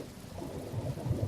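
A thunderstorm with heavy rain on a road gives a steady wash of rain under low rolling thunder that swells toward the end, with no one speaking.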